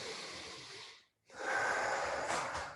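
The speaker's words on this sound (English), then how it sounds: "Support first, breathe in and out." Breathing in and out during a foam rolling hip exercise: two close, audible breaths, a long exhale, a brief silent pause, then a strong sniffing inhale, alone without talk.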